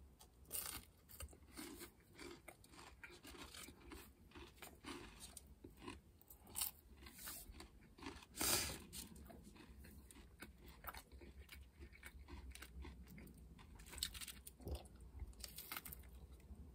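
Crunchy food is chewed close to the mic in repeated crisp bites and crackling crunches, irregular but steady over many seconds, one louder crunch midway.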